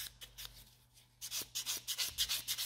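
A nail buffer rubs over gel nails in a rapid back-and-forth rhythm, each stroke a soft, close, scratchy swish that grows louder and more regular after a quiet start.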